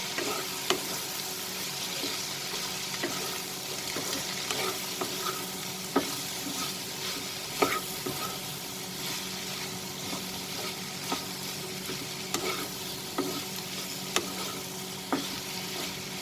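Okra and prawns with soy sauce stir-fried in a pan over medium flame, a steady close sizzle broken by sharp spatula clicks and scrapes at irregular intervals, moderately quiet, with no speech.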